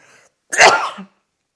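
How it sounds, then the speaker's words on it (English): A single close, loud sneeze bursts out after a faint breathy intake, ending abruptly with no talking. "Oh, I'm going to sneeze."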